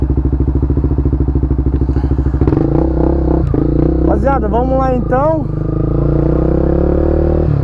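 A Honda CB 300F Twister motorcycle with a GRS exhaust idles with a rapid, even pulse, then its engine is revved in several loud, rising bursts. Someone talks over it.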